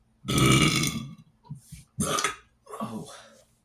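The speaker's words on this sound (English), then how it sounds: "I got a burp." A loud, drawn-out burp right up close, followed by two shorter belching bursts after brief pauses.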